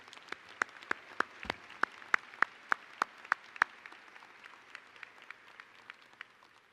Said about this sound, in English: How about a large round of applause for all four of our honorary doctorate degrees?